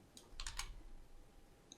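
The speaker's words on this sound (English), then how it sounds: "it's a lot of left mouse clicking" Left mouse button clicks at a computer during image editing, a few quiet sharp clicks close together near the start and one more at the end, over a low room hum.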